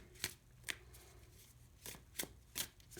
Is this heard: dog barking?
no